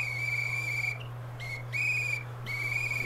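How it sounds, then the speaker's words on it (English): A whistle blown in several shrill, steady toots, the first long and followed by three shorter ones, with brief gaps between them. The sound is close and loud over a low constant hum, with no talking. "Gotta blow that whistle."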